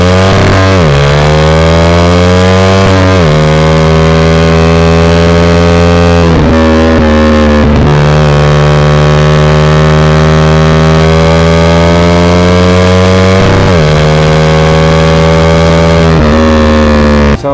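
A very loud SC Project aftermarket exhaust on a carbureted Raider 150 motorcycle roars and revs repeatedly, the engine pitch dropping and climbing in harsh, buzzing bursts close to the microphone.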